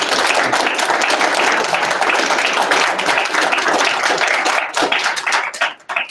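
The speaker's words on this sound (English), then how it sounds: "can we get a quick round of applause for him?" An audience claps after a talk by Dave Rubin, a dense burst of applause that holds steady and then tapers off into scattered claps near the end.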